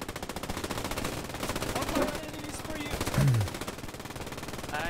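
Sustained machine-gun fire in a combat video game, a dense rapid stream of shots running throughout with a louder burst near the middle, while a voice talks over it.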